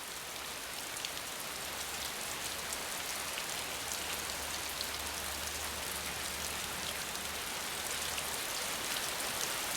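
Steady rain pouring down in a Venezuelan forest, a dense continuous hiss of drops on leaves and surfaces, even and unbroken throughout, with no voices.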